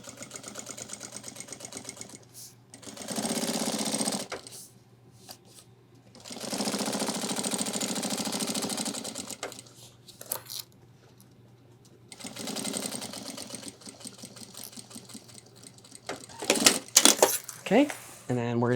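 Sewing machine stitching ultralight backpack fabric in three long steady bursts of whirring, separated by quiet pauses, with small handling clicks and clatter near the end.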